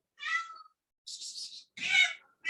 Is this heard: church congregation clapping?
no